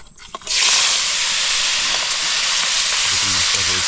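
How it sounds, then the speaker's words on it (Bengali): Crab hits a hot frying pan during outdoor cooking on a remote Andaman island, setting off a sudden loud hissing sizzle that holds steady after a brief quieter moment. "এবার যাবে কাঁকড়া ভাজা।"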